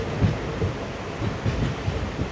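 Train rumbling steadily over a level crossing as it loops into Thuravur station, a continuous low rolling roar with soft rhythmic wheel thumps, no voices.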